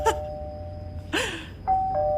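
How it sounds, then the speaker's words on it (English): Doorbell rung repeatedly: several quick ding-dong chimes in close succession, clear and moderately near, with no talking. "continually presses the doorbell like 30 times until the person comes to the door."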